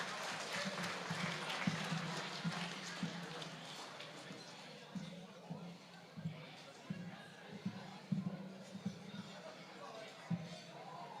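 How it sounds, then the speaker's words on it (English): An audience at a sports awards night applauds lucky door prize winners with a dense burst of clapping that fades, followed by scattered claps and a voice speaking over a hall microphone. "Round of applause for those Lucky Door Prize winners"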